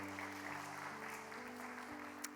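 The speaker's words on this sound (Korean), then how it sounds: "우리 박수 한번 해줍시다." A church young-adults service congregation, with a band present, gives a quiet round of applause, a soft steady patter of clapping under a low sustained hum.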